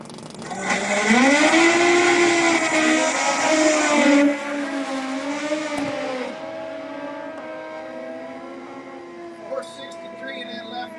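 A big-tire drag racing motorcycle with a wheelie bar runs down the strip at the 2022 Man Cup finals in Adel, Georgia. A loud engine roars and climbs in pitch, then its sustained drone fades into the distance.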